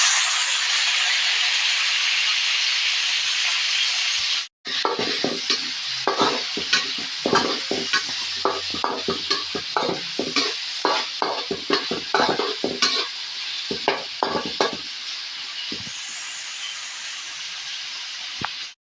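Tomatoes drop into a pan of squid adobo with garlic, onion and ginger and set off a loud, steady sizzle and hiss. After a brief silent break, a spoon stirs and scrapes in uneven knocks over the continued frying.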